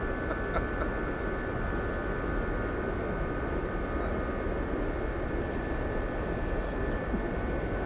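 Kiowa helicopter flying in the DCS World combat flight game, a steady, constant engine and rotor drone with an even broadband whine throughout, heard from inside with faint clicks on top.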